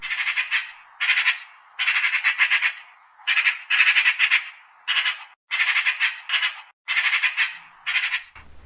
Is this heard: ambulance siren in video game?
no